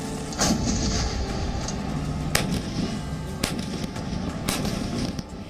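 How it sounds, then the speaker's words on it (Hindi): A K9 Vajra self-propelled artillery gun deployed in Ladakh fires in several sharp, booming blasts spaced a second or so apart, each with a rolling echo over steady background rumble. "ये है सेना की परम शक्तिशाली वज्र तोप, जिसे लद्दाख में चीन के मोर्चे पर तैनात किया गया है।"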